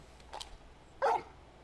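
Torgal, a large dog in Final Fantasy XVI, gives a soft short yip and then a single louder bark close by, in otherwise quiet surroundings.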